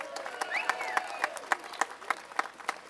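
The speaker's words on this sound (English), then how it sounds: "Let's give Philip Van Cleve and the VCDL a round of applause." Sparse, scattered hand clapping from an audience honoring Philip Van Cleve and the VCDL at a pro-gun event, quiet and slightly distant, with a whistle rising briefly through the claps.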